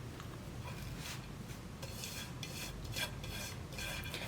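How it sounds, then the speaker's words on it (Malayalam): Maida flour is mixed by hand in a bowl for multi-flour chapathi dough, giving soft repeated scraping and rubbing strokes of a spoon against the dish, fairly quiet and close. "മൈദപ്പൊടി ഇത്രയും ചേർത്തിട്ട് നന്നായിട്ടൊന്ന് മിക്സ് ചെയ്തെടുക്കുക കേട്ടോ"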